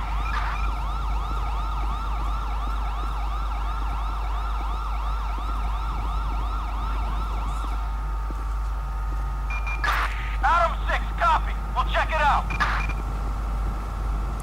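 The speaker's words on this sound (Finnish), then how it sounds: "Useampikin ambulanssi tuli." Several ambulances arrive with sirens wailing in a steady repeating up-and-down cycle, loud and near, then the wail breaks into short irregular yelps over a low engine hum, with people talking faintly.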